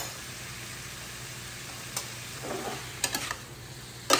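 Steak cooking in butter in a pan for Philly cheese steak, a low steady sizzle with a few sharp clicks and scrapes of flipping toward the end.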